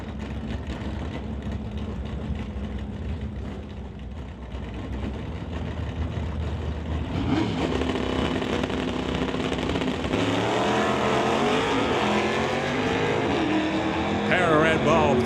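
Drag racing cars, one a Buick, idle and then rev loudly on a racetrack, the engine drone rising and surging with changing pitch near the end, under talk from an announcer.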